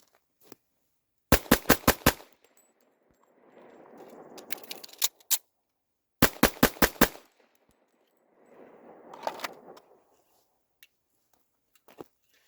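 Two quick strings of about five pistol shots each ring out from a Commander model handgun fitted with a DPM recoil reduction spring and guide rod, sharp and close, with softer rustling and clatter between the strings.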